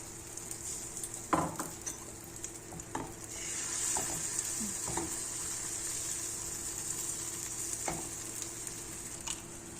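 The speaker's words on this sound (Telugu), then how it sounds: "కొద్దిగా ఆయిల్ వేసుకొని ఇలా ఆయిల్ వేసుకొని ఇప్పుడు చితకొట్టుకున్న గుడ్డు దాంట్లో వేసేసుకుందాం" Beaten egg poured into hot oil in a pan, sizzling and frying steadily throughout with occasional stirring clicks and scrapes of a utensil.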